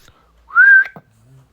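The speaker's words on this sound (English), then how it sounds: "this reminds me of the time somebody whistled at me" A person gives a single loud, close whistle that rises and then holds steady, followed by a short breathy blip and then quiet.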